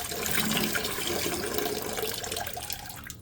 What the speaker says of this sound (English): Drain that water out of the line.